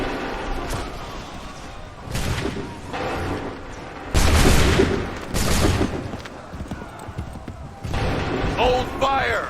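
Musket volleys fired by ranks of soldiers in Assassin's Creed 3, heard as several loud, broad blasts spread across the moment with rumbling decay between them. Shouted commands sound over the battle noise.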